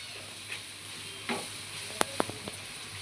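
Spices being stirred into fried onion and garlic for pulao: a soft sizzle underneath, with a few sharp spoon scrapes and clicks against the pan near the end, close by and fairly quiet.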